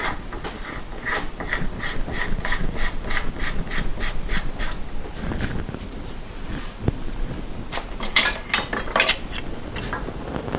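Rapid ratchet clicking in steady bursts as a strut nut on a VW Cabriolet front strut is tightened, close and loud, followed by some rubbing, shifting metal sounds and a few sharper clicks.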